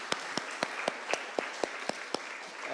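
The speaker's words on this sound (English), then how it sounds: "Another round of applause and appreciation for all the work that they've done." Audience at a gathering applauding a committee and volunteers, a soft bed of clapping over which a few louder claps ring out at a steady, even beat.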